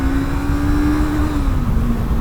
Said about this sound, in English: Just hit the rev limiter.